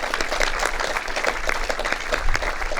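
A crowd applauding at a boathouse opening ceremony, dense continuous clapping held at a steady level throughout, fairly close.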